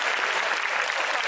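Audience applause at a cosplay convention, a dense, steady clatter of many hands clapping continuously at close range throughout, with no gaps or talk.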